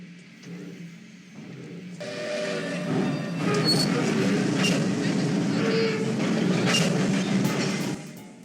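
Steam locomotive California Western number 45 rolls along in a continuous, loud rumble of rail and wagon noise that builds after the first two seconds and holds steady, with no talk over it.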